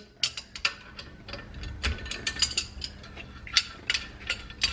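A spanner braced on a second spanner loosens screws on a Toyota Supra during disassembly, giving sharp metallic ratcheting clicks in irregular bursts, close and clear, with no voices.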